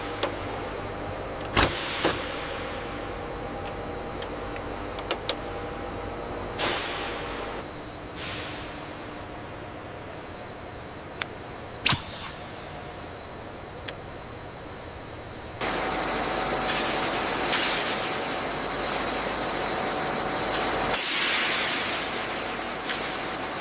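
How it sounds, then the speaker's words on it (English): Down jacket filling machine working its pneumatic transport system, giving a steady mechanical hum with sharp hisses and air bursts at irregular intervals, close and moderately loud, with no talk. "Now the machine receives its most distinctive technology, a sophisticated pneumatic transport system capable of moving"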